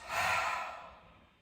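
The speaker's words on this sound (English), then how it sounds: "an extra breath in through the nose, open mouth, breathe it out" One soft breath pushed out through an open mouth, a short airy sigh that swells quickly and then fades away, close and gentle.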